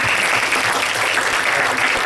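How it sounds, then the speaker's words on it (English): An audience applauds steadily to welcome Miloš, a guest speaker at a lecture on neuroprosthetics for stroke recovery; a dense, even round of clapping fills the room without letting up. "So let's give Miloš a warm round of applause and welcome."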